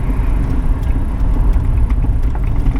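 A 1999 Chevy S10 pickup truck pulling into a driveway, its engine a close, steady low rumble throughout with a few light knocks and rattles on top.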